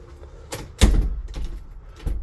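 A door of a lodging is pushed shut and latched: a few hollow knocks and a heavier thud, then rattling handle and lock clicks close by.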